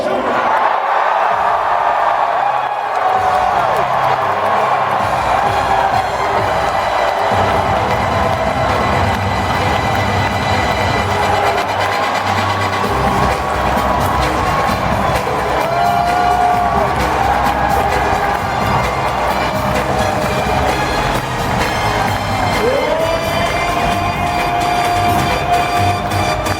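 A large conference crowd erupts as if celebrating a city's national championship, a loud sustained roar of cheering, shouting and whooping that fills the whole stretch without letup.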